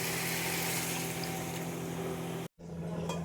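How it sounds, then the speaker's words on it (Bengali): Water poured into a pan of sautéed mixed vegetable curry, a loud, continuous gushing pour with a short break before it resumes. "এবার আমি জল দিয়ে দেবো।"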